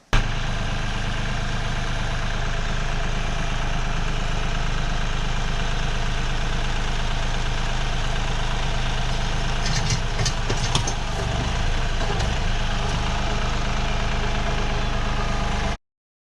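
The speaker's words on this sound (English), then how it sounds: "Here's one example of the independent grapple tops here." A tractor idles steadily and loudly up close with a constant engine drone while the hydraulic cylinders of a split-top grapple operate, adding brief mechanical clicks and shifts partway through before the sound cuts off.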